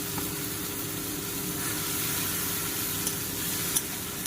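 Lote fish frying in a pan with a ginger, garlic and green chilli paste plus dry chilli powder, giving a steady, fairly soft sizzle that runs through the whole moment with a few small pops near the end.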